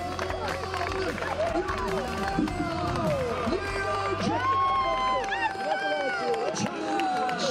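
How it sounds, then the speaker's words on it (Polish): Crowd at an MMA fight in Olsztyn, a women's title bout, giving applause and cheers: a dense, continuous roar of clapping and hubbub with a commentator's voice talking over it. "Ostatnie tego poranka brawa"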